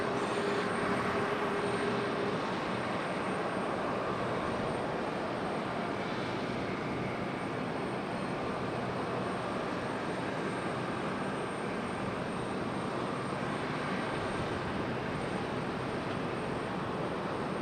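An airplane lands at Raleigh Durham International, its engine noise a loud, steady roar that fills the whole stretch without pause.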